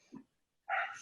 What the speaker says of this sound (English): I'm in my backyard, so we have a nice, friendly dog over there barking